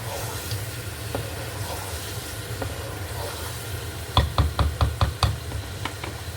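Keema minced meat fries in a pan with a steady low sizzle, broken by a quick run of sharp spatula knocks against the pan.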